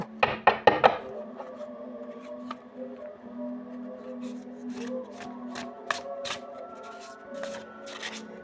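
Sioux shamanic divination cards are shuffled in a quick burst of crisp riffling, followed by scattered soft clicks and slaps as cards are drawn and laid down, close by over a faint background.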